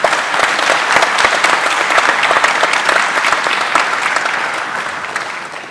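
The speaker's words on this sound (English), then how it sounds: "a big round of applause to all of them" Loud, sustained applause fills a room at an IPO celebration event, dense clapping from a large audience that thins slightly toward the end.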